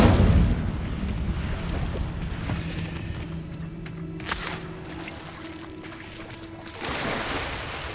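An Incendio fire spell in Hogwarts Legacy lets out a whooshing roar of flame, loud at first and then settling into a low rumbling burn before a second swell near the end.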